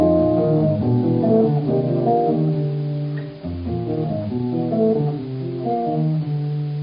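A mellow electric guitar runs a rhythmic, swinging jazz phrase of quick single notes that weave chromatically, played alone at steady volume.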